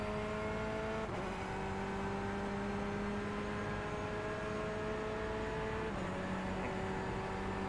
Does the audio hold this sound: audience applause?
no